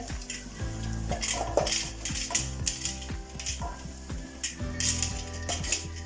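Cooked rice goes into a pan of carrots frying in oil for a simple biryani, with metallic scrapes and clanks of utensil on pan over a steady close sizzle and no speech.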